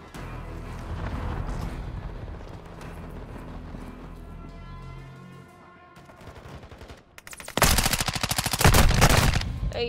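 Gunfire in Call of Duty Modern Warfare 2, rapid bursts of shots that thin out midway, then return as very loud, dense automatic fire near the end, close and harsh.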